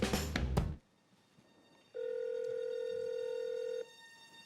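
A telephone call rings out: a brief burst of clatter at the start, a short near-silent pause, then one long steady electronic ring tone held for about two seconds before cutting off, with no voices.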